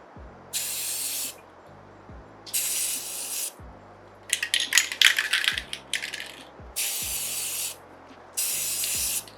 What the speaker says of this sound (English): now I'm going to try spraying it again